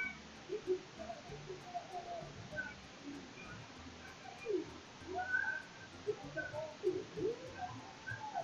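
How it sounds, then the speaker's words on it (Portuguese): A cat in Yo-kai Watch 2 gives several faint, short meows scattered over quiet game ambience. "E gatinho."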